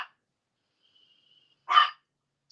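A single short, loud dog bark or yelp from a female dog indoors, standing alone after near silence.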